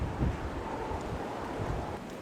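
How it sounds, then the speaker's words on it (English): Gusty wind buffets the microphone outdoors near crumbling rocks, a constant low roaring rumble with no other clear sounds. "As you can see, it's getting a bit windy."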